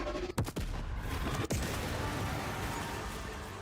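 Gunfire in the Rogue Trader video game, a couple of sharp shots up front followed by another crack, over a dense, rumbling battle-noise bed that continues to the end.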